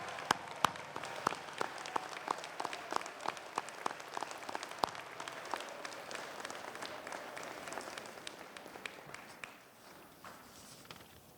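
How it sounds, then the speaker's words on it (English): Commencement audience at a winter graduation ceremony applauding, with scattered, uneven claps rather than a dense roar, fairly distant and soft, thinning out toward the end. "turn around and applaud the family members and friends who have always been there for you when you need them the most."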